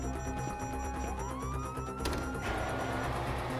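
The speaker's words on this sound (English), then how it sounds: "You hear that? Sirens!" A police siren wails with rising and falling tones over a dense background of engine noise and clatter in the video game GTA 5.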